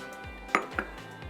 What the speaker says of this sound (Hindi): अब इसको अच्छी तरह हम मिक्स करेंगे।